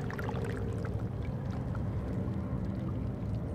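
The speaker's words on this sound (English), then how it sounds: "The water moves calmly through crevices." Calm, windless ocean water at a rocky beach, Kits Beach, moves gently through crevices among barnacle- and seaweed-covered rocks, giving a low, continuous close-up sloshing and gurgle.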